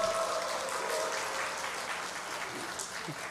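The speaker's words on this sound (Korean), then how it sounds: "자, 박수 주세요." Church congregation applauding as children come forward, a continuous, moderately loud patter of clapping from a crowd throughout the short span, with a faint tone in the background.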